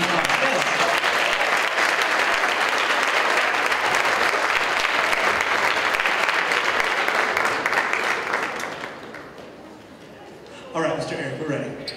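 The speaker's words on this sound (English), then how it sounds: "Let's give our alumni a round of applause." An audience at a high school choir's Christmas program applauds choir alumni with loud, sustained clapping that fades after about nine seconds, then a short burst of renewed clapping near the end.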